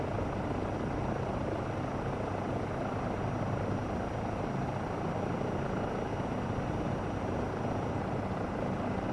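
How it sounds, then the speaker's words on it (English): Continuous loud Eurocopter EC135 helicopter rotor and engine drone in Microsoft Flight Simulator 2024, steady and unbroken throughout. "Stand back from the helicopter, please."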